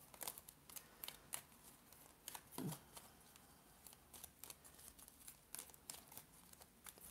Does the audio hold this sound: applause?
no